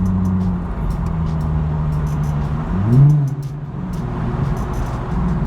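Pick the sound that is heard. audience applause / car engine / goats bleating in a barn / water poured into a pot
car engine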